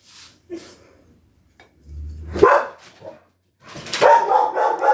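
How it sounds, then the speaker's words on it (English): A dog barks a few times nearby, sharp and loud, with quieter yips and a whimper between the barks. "Sorry about the dog."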